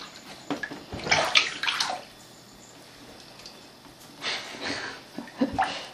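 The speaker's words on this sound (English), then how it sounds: "Let's see some splashing in the bathtub." A child splashes water in a bathtub, with a few bursts of sloshing and slapping water separated by quieter stretches and drips.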